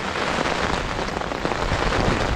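Heavy rain pours steadily in a dense, loud hiss over a farm in Jaffna, with gusting wind blended into the continuous roar.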